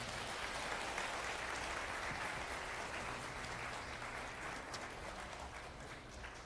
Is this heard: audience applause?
yes